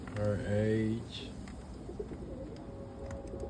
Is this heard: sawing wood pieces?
no